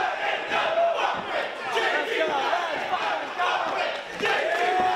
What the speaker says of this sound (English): the crowd is hot